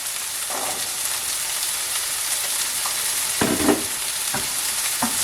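Vegetables stir-fried in a pan for omurice, a steady broadband sizzle throughout, broken by a few louder scraping stirs near the end, with no talking.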